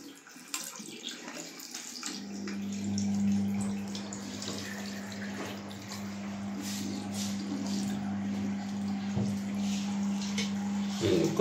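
Tap water runs continuously into a bathroom basin being scrubbed with a toothbrush, a steady splash starting after a couple of seconds, with faint voices and a steady hum alongside.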